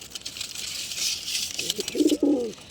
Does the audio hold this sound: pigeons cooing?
yes